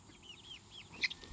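Chickens in a backyard 8x10 coop give a few soft, faint clucks and chirps, with one slightly louder call near the end, no talking.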